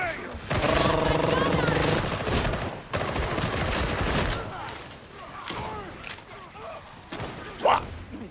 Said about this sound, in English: Precision fire on the way!